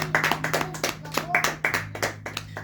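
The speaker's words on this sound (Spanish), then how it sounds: "Dale un fuerte aplauso." A church congregation claps together in quick, steady rhythm, loud and close. A faint low hum sits underneath.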